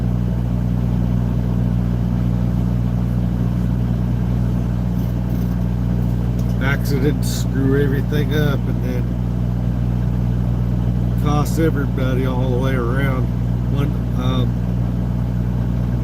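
A semi truck driving on the way to a truck stop in Ohio: steady, loud low engine drone and road hum throughout, with someone talking over it.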